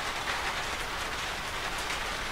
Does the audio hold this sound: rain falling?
yes